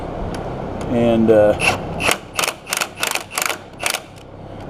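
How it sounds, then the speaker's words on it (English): A ratchet or wrench tightens steering rack bolts under a 1998 Subaru Forester, giving a rapid ratcheting burst followed by six evenly spaced, loud rasping pulls, close up, with a brief word spoken near the start. "now I can tighten up my bolts again"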